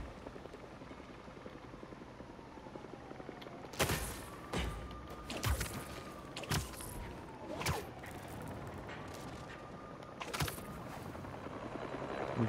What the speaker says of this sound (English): I'm chasing the helicopter?